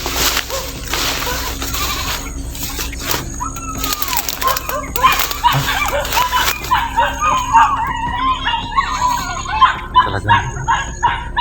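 Several dogs bark and yip excitedly in a busy, overlapping chorus, fairly close, with whimpering cries rising toward the end.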